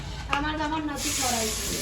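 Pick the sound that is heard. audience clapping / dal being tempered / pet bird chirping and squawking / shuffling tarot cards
dal being tempered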